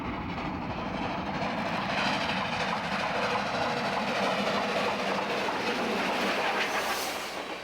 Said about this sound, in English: those steam trains, belching smoke and rumbling and swaying